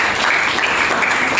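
A classroom of students applauds in a dense, loud burst of clapping that lasts only a moment.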